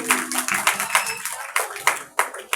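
Scattered clapping from an audience at a children's 14 August program as a young girl comes up on stage, with sharp bursts of hand claps mixed with voices and murmuring.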